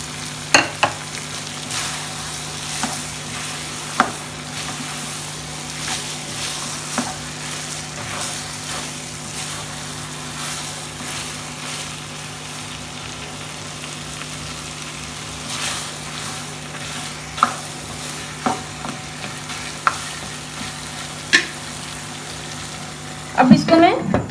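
Meat (gosht) fries in a pan with a steady sizzle under a constant hum, and sharp scraping clicks of stirring punctuate it at irregular intervals, growing busier near the end.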